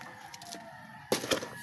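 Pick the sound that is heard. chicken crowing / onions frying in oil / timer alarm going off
chicken crowing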